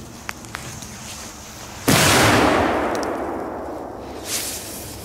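A few faint pops, then a loud Polish category 4 firework bang booms and echoes away over several seconds, with a smaller crackle near the end.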